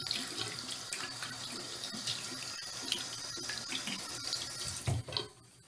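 A tap runs steadily into a sink as hands are rinsed of soap, a close continuous splashing stream with small shifts in the flow before it cuts off near the end.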